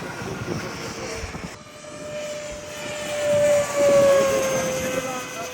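A small propeller plane flies overhead, its engine drone growing louder and closer toward the end, while people talk nearby.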